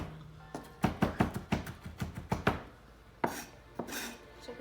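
A knife chops food on a board in a quick series of sharp taps, pausing briefly before a few more cuts, fairly close.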